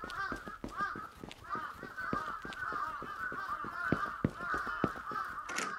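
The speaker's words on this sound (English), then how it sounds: "So many fucking birds everywhere." Dense flock of birds honking and cawing in a Japanese horror video game, goose-like calls overlapping continuously at moderate volume with sharp individual squawks throughout, no talk.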